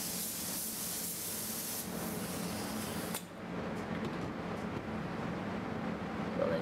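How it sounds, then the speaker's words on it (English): A spray gun applies blending clear coat to a metallic Audi A5, a steady, close, broadband hiss that runs throughout and shifts slightly in tone partway through as the pass changes. "This is a separate gun that I use for blending clear."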